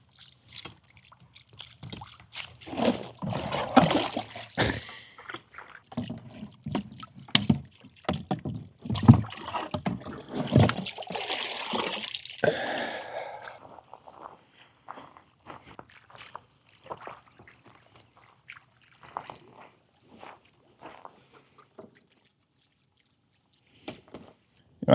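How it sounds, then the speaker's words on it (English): Garden fountains being turned back on, with irregular splashing and trickling water up close, busy and fairly loud early on, then thinning to sparse drips and quiet gaps. "fill up our fountains, turn them all back on"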